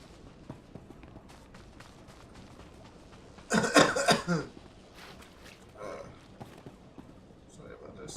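A person coughs in a short, loud burst of several harsh coughs in the middle, then a fainter throat sound follows, with quiet speech around it.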